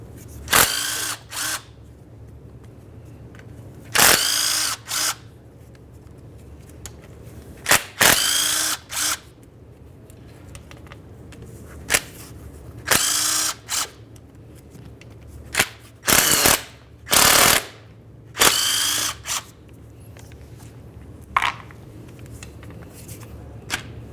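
A power tool backs out 8mm transmission pan bolts on a Ford Transit Connect, firing in short loud whirring bursts, about a dozen, separated by pauses with quieter handling noise underneath.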